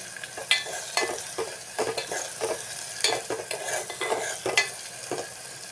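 Quail curry cooking in groundnut oil, with a spoon stirring in repeated scraping strokes over a continuous close sizzle, rhythmic and fairly loud, no voices.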